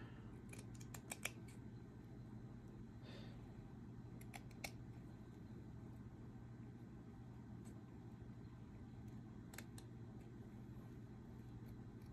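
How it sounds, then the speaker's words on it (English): Scissors make a few small, quiet snips in rust-dyed fabric while a butterfly shape is cut for a stitched journal page, with crisp clicks spaced apart over a low steady room hum. "I could do a little snip here"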